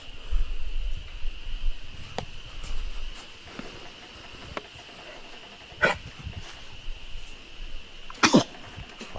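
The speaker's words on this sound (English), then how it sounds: "Clyde's got a cough." A dog named Clyde coughs a few times on a creekside hike, short harsh bursts, moderately close, against quiet outdoor background.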